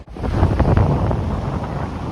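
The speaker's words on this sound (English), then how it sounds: "Wind slightly in our backs." Steady wind buffets the microphone at a misty seaside fishing spot, a loud continuous roar with surf-like rumble and no talking.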